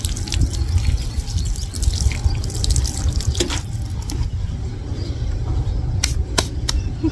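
Water splashes and patters steadily onto garden soil and plants for several seconds as a drought-stricken home garden nursery is watered, with a few sharp drips and taps near the end and no voices.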